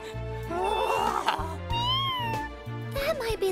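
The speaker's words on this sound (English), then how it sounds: "Oh no! An evil cat!" A cartoon cat meows in a drawn-out, wavering voice, several loud nasal yowls in quick succession over a bouncy musical backing.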